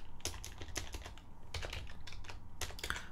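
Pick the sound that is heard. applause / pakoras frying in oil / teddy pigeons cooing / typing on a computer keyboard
typing on a computer keyboard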